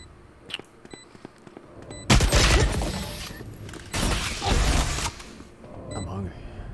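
Gunfire in the Valorant shooter game after a spike plant: quiet ticks and clicks, then two loud, dense bursts of rapid shots about a second each, followed by softer scattered noise.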